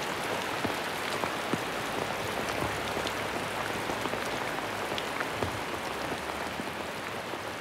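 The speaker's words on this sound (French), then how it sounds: "j'aimerais que cette pluie s'arrête" Steady rain falls in a rainforest, a dense continuous hiss of drops hitting leaves and ground, with scattered close, distinct drop ticks throughout and no voices.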